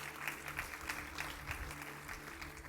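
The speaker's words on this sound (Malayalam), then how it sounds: "കൈ ഉയർത്താത്തവർ ഇവർക്ക് ഒരു കൈയടി കൊടുക്കുക." An audience claps together in a hall, a brief, fairly faint burst of steady applause heard from a distance.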